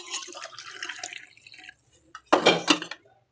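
Liquid pours and drips into a dish in a short splashy trickle, followed by a louder burst of wet splashing and glassy clinks up close, then silence.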